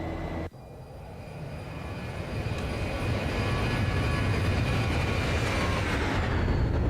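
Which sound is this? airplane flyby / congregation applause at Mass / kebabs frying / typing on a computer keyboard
airplane flyby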